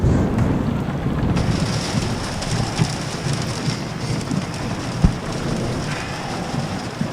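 Steady rain falls in a dense, even hiss on surfaces nearby, with an occasional louder drop or tap and no voices.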